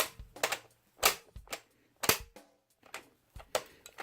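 A Star Wars Force Link 2.0 Han Solo landspeeder toy with a spring-loaded front gives off sharp, irregular plastic clicks, about a dozen close snaps in quick clusters, with no voices.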